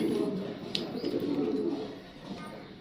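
Pigeons softly cooing nearby, a low continuous murmur from several birds, with a faint higher chirp partway through and no talk.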